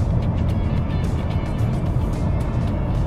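A Mercedes-Benz W220 S500 with a V8 rolls slowly through town at about 50 km/h, a steady low engine hum and tyre rumble heard from inside the cabin, with no talk.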